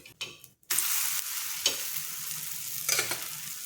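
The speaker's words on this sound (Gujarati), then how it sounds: "પુડલાની આપણે ચારે બાજુ આપણે થોડું તેલ લગાવી લઈશું। પુડલાને આપણે થવા દઈશું।" Farali pudla, a fasting pancake, sizzles steadily in oil on a pan, a broad continuous frying hiss after a few brief clinks at the start, with occasional small pops and scrapes, close and alone.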